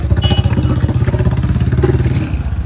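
A motorcycle engine idles close by at night, a loud steady rhythmic putter with rapid regular firing pulses and faint clatter, running alone without talk.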